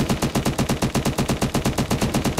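Rapid automatic gunfire in the Unturned video game as a whole magazine is emptied, a close, loud, evenly spaced stream of around twenty shots in under three seconds, with no speech over it.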